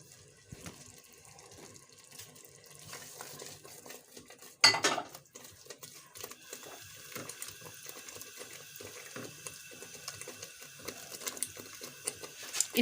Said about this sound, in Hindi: मिक्स कर देंगे इन सबको।